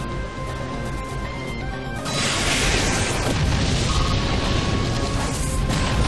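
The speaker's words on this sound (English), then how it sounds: "Annihilated by explosion!" Voltorb's Explosion move in the video game Pokémon Battle Revolution starts with a low mechanical rumble, then a loud, broadband blast hits and roars on steadily for several seconds.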